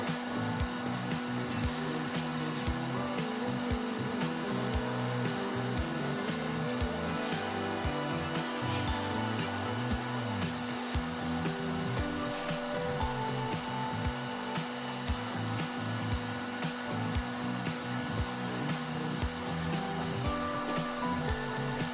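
Continuous hiss of aerosol spray paint cans coating a scale model car or plane, steady and close, with a constant hum underneath and no talking throughout.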